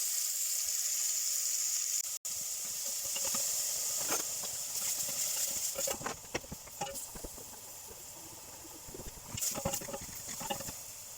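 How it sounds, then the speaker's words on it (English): Bacon that is not dry cured fries in hot oil, hissing and sizzling steadily as water cooks out, with sharper crackles and pops breaking through the constant close hiss. "you get a lot of water comes out of bacon when you cook it if it's not dry cured"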